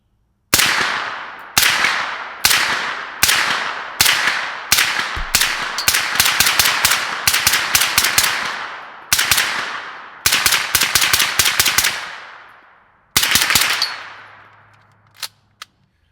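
A Zenith gun fires 115 grain Blazer ammunition at an outdoor range, sharp loud reports with ringing tails, starting as spaced single shots and quickening into rapid strings and bursts, then stopping.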